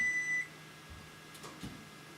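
A kitchen timer gives a single electronic beep for about half a second while chicken cooks, then fades into quiet room noise with a few soft clatters.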